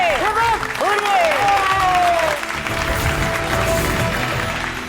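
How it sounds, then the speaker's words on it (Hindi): A crowd at a family celebration in a Hindi TV drama breaks into clapping and cheering, with rising whoops and voices over steady applause, loud and close throughout. "सब ताली बजाओ"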